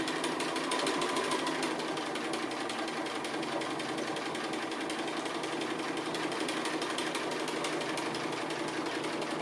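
A sewing machine runs fast and continuously while doing free-motion stitching on fused appliqué pieces, a steady close mechanical whirring clatter with no talking.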